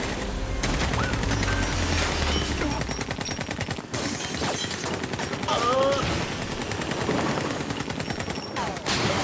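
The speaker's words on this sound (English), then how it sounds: "That's a gun." Gunfire from a TV crime drama plays as a dense, sustained burst of rapid shots and booms under a continuous loud mix, with voices faintly present behind it.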